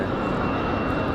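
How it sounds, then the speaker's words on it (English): A United Airlines Airbus A320-family jet departing Raleigh-Durham International in windy conditions, a steady, loud broadband engine roar with no breaks, heard alone without voices. "Got a United A320, A319 up next. Should be a good sounding departure."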